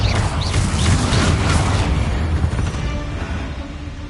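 A Confringo spell explosion in a Hogwarts video game, a heavy loud boom that bursts at once and then rumbles and fades away over a few seconds.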